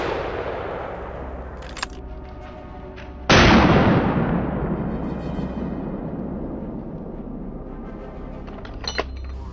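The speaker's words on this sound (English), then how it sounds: "The gunshot cracked through the still morning air." A single loud rifle shot cracks out sharply on a wild boar hunt, then rolls away in a long fading echo; faint sharp clicks sound before and after.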